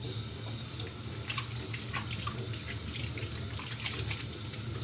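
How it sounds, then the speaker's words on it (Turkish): Water runs steadily from a tap onto hands being rinsed after soap lathering at a sink, a continuous close splashing hiss with no talk. "Sonra suyumuzu açıyoruz."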